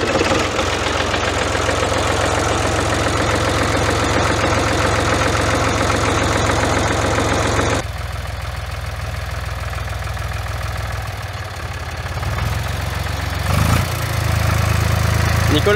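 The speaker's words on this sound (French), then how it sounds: "c'est un tracteur qui travaille toujours" Old SFV tractor that still does farm work, its engine idling close and loud with a steady, throbbing knock. The note dips slightly partway through and then rises again, with no clear talk over it.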